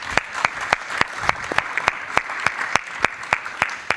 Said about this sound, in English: I would suggest that we are less shy and we give him a very big round of applause.